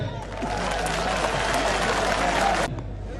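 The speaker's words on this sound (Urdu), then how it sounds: "ذرا تالی بجائیں۔" A crowd at a political party convention in Pakistan applauds in a sustained burst of dense clapping that swells and then cuts off sharply near the end, with faint speech around it.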